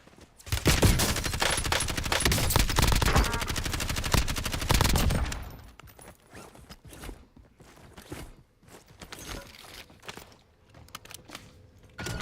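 Heavy automatic gunfire in the Call of Duty Warzone battle royale, set in Verdansk, rattles loudly in sustained bursts for about five seconds, then drops to quieter scattered shots, footsteps and game sounds.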